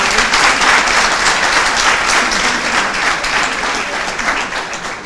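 Audience applause at a ministerial visit to a school in a French-speaking setting, a dense, steady wash of clapping from a large crowd, loud and close, sustained throughout and easing slightly at the end.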